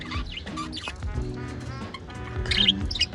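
Caged birds fill the space with quick, bright chirps and tweets in overlapping bursts, some close and sharp, others softer, with a louder cluster of calls near the end.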